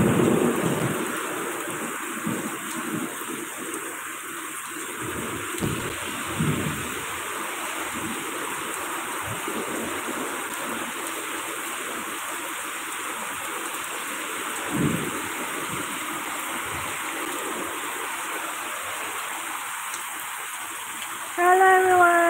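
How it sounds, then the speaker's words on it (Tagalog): Heavy rain pours steadily throughout, with low rumbles of thunder rolling in at intervals. "Ulan siya ng malakas."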